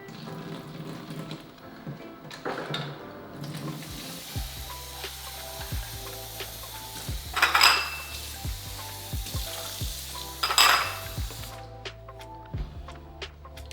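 Garlic slices fry in a pan that has boiled over too long, a continuous close sizzle with a couple of louder hissing bursts and faint clinks of a utensil, no talking.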